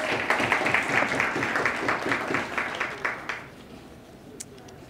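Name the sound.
applause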